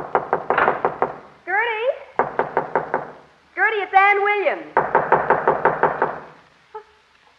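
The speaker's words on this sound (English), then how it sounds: "I'll go ahead and knock at the door" Knuckles rap on a house door in quick bursts of about five knocks, repeated three times, loud and close, with a person speaking briefly between the sets.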